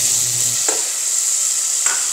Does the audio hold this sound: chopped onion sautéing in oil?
yes